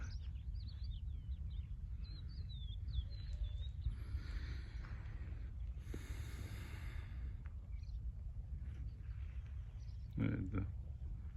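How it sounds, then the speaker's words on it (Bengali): Birds chirp and sing outdoors in Bangladesh, with thin, high calls scattered through the first few seconds and another burst near the end, all over a steady low background rumble. "পাখির কলকাকালি শুনতে পাচ্ছেন?"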